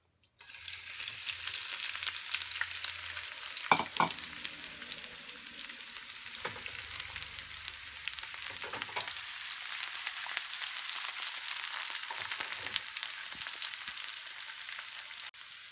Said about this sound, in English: we can add this whole thing to the pan, and we can let this begin to start cooking down